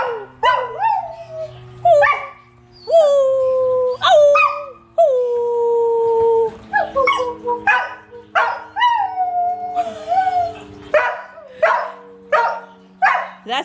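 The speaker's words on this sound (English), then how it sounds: "And our dog will howl." A dog howls in long rising and falling wails, broken up by sharp barks and yips, close and loud, with a low steady tone droning underneath.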